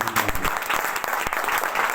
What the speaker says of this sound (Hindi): एक बार जोरदार ताली इनके लिए।